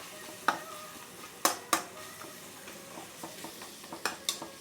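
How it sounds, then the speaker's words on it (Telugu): Tomato curry frying in a pan and being stirred, with a soft steady sizzle broken by several sharp scraping and clinking strokes of a spoon against the metal, close by and moderately quiet. "ఇది వేగుతుంది అనమాట."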